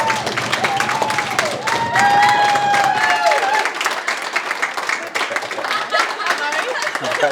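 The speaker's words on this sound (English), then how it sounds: "We'll give her a big round of applause." A room full of people at a women's football league medal presentation breaks into dense, continuous applause for the medal winner, with whoops and a whistling tone rising over the clapping and voices mixed into the din.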